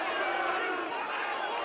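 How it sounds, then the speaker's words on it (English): Sydney United 58 supporters jeer a player during an NPL Men's NSW elimination final against Marconi Stallions, a dense, sustained roar of many voices that holds steady and fills the whole stretch. "Maya hops up to the jeers of the United crowd."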